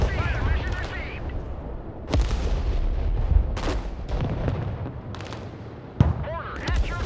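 Mortar rounds fire in the military strategy game Broken Arrow, sharp booming reports at irregular intervals with distant gunfire and crackling battle noise between them, under faint radio-style voice chatter.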